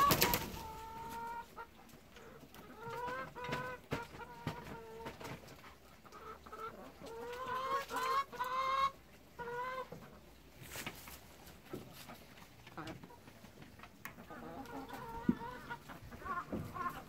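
Several chickens cluck and squawk close by in irregular bursts, with sharp knocks and rustling mixed in.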